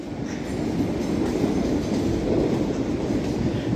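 Class 395 unit 395025 rolls slowly out of Ashford International toward the sidings, a steady, rumbling passage of wheels on track with a dull low roar and faint clatter, heard close and continuous.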